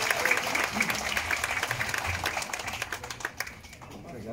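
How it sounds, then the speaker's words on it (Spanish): A crowd applauds the arrival of the Virgin of Candelaria at a church in Sonsonate, scattered clapping that thins out over a few seconds while a voice talks over it. "un aplauso fuerte también para la Virgen María"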